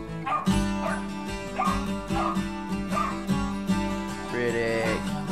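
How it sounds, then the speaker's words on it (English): A dog barks repeatedly in short, loud bursts, with some whimpering yips mixed in, close by and without talk. "you're barking at yourself."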